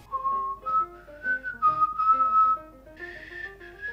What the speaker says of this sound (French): si tu pouvais éviter de siffler, ce serait bien